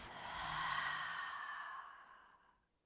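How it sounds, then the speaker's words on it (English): A long, breathy exhale through the mouth during a yoga hip-opening flow, a single soft sigh that swells and fades over about two seconds, close and quiet. "And audibly exhale through the mouth."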